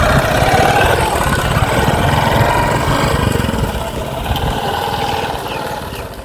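Motorcycle engine running at a steady idle close by, a continuous low chugging drone that eases slightly toward the end.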